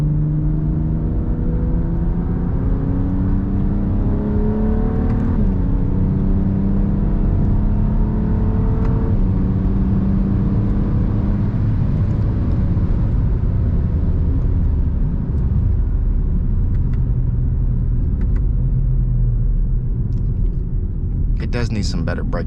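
A BMW E92 335is with a DCT gearbox drones steadily from inside the cabin, its engine note climbing through each gear and dropping sharply at quick shifts, a low continuous rumble throughout.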